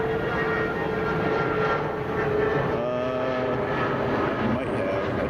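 Emirates Boeing 777 at Chicago O'Hare, a steady broad jet engine roar holding constant throughout, moderately loud and continuous, with faint tonal whine and no speech.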